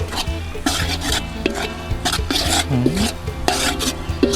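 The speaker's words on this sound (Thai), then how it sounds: "ผัดจนมันหอมแล้ว จนเครื่องที่เขาตำเนี่ยมันสุก" Pounded curry paste stir-fried in a pan for a rustic Thai fish curry, giving continuous close scraping and rasping of a utensil against the pan, with faint sizzling underneath.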